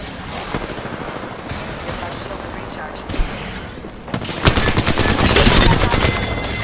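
Apex Legends gunfire rattles in dense automatic bursts, growing louder and more intense in the second half, with a player talking during it.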